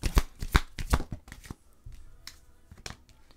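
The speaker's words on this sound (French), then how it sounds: "Je vais aller sortir ma dernière carte." Tarot cards being shuffled and drawn from a deck, a quick run of crisp riffling flicks and slaps in the first second and a half, then quieter soft card handling and a few isolated taps, close and alone.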